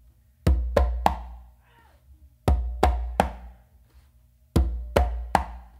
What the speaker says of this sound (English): a slap in the middle of the drum with my non-dominant hand and then a close slap with my dominant hand all on the conga